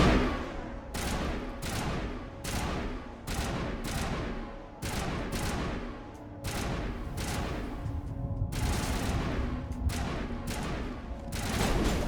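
Gunfire in the video game Mass Effect: a steady run of sharp, evenly spaced shots, loud and close, over a constant low hum.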